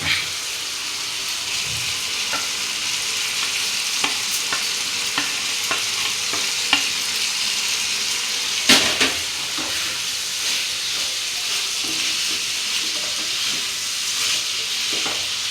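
Pasta and egg frying in a pan, a steady loud sizzle and hiss filling the whole stretch, with occasional soft clicks of a utensil stirring through it.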